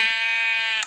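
A single short electronic-sounding video game sheep bleat, loud and clean, ending abruptly with a brief click.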